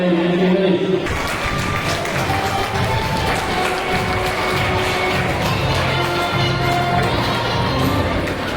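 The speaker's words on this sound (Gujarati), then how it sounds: "ફરી વખત આપણે તાળીઓથી વધારો જોરદાર તાળીઓ પાડો" Audience at a student award ceremony clapping loudly and continuously, a dense rattle of many hands that starts abruptly and carries on under a speaker's voice.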